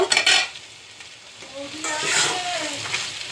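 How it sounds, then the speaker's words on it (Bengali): Pieces of dhoka are stirred into sautéed potatoes and bean seeds in a sizzling pan, with a spatula scraping and clinking against the metal amid a steady frying hiss. "এখন ধোকাগুলো দিয়ে একটু নেড়ে চেড়ে নেব"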